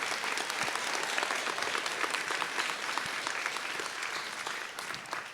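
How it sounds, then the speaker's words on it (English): Audience at a college convocation ceremony applauding in a dense, steady wash of clapping that holds evenly across the whole stretch, heard from within the hall and fading slightly toward the end. "So I just ask you to join me in an applause for Carrie."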